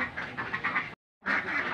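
A dense flock of egg-laying ducks on a duck farm in Bayang, West Sumatra, quacks loudly and continuously at close range, cut by a brief silent gap before the chorus resumes.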